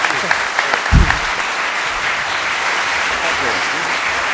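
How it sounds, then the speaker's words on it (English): A lecture audience applauds the evening's speakers, sustained even clapping throughout with a brief low thump near the start and a voice speaking over it. "even a bigger applause for the speakers of tonight"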